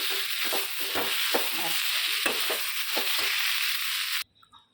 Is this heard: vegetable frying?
yes